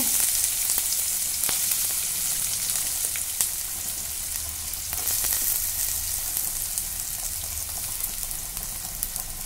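Onion sizzles in hot oil with cumin and mustard seeds in a pan, a dense, steady crackling fry with scattered sharp pops and spits throughout, close and loud with no voices.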